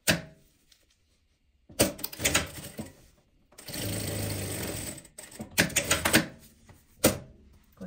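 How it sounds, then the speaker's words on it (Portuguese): A sewing machine topstitches a seam on fabric lining in several short runs of close, rapid stitching, separated by pauses and light handling noises. "Vou rebater a costura aqui desse lado."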